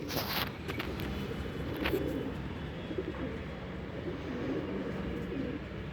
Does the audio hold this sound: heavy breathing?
no